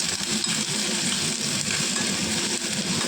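Green chilies and onion, added with bay leaf to hot oil, stirred as they fry; a dense, steady sizzle runs loud and close throughout, with no talking.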